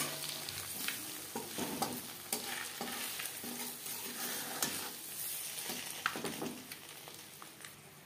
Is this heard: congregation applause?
no